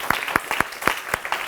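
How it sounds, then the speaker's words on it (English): An audience gives a short round of applause after a talk, with a few sparse, close claps spaced out rather than a dense roar, and no voices. "if we could give her a quick round of applause for being awesome"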